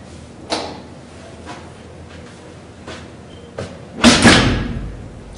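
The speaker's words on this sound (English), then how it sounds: "the occupant simply closes the shutter door" A metal tornado shutter door over a window is pulled shut and its lock engages, a few soft knocks and rattles followed by a loud closing slam and clatter at the end, near and alone.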